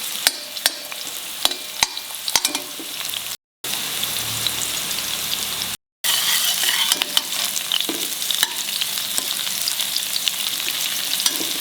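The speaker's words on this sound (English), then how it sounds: "Fry the onions well. Increase the flame. Make it brown" Onions fry on a high flame in a pan for egg curry, browning and sizzling loudly with steady crackle and occasional stirring scrapes.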